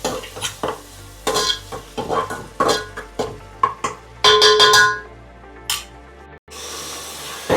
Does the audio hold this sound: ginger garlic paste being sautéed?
yes